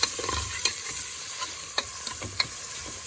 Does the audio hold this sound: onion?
yes